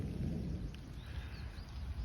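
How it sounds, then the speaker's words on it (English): Low, distant thunder rumbles steadily on a mountain hiking trail through a burned-over forest area, a faint continuous roll with no speech. "as we hear thunder in not so distant range."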